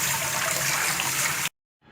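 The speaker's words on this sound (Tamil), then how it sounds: "போட்டோன்னே கோல்டு வாட்டர் வச்சு நீங்கள் அதை வந்து வாஷ் பண்ணிடுங்க." Cooked noodles are rinsed under cold running water, a close, steady gush that cuts off abruptly, then a faint splash returns after a brief silence.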